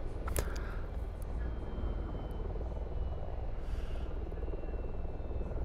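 Gazelle helicopter in the DCS flight simulator winding down after shutdown, a steady engine and rotor drone that stays loud and close throughout, with no talk.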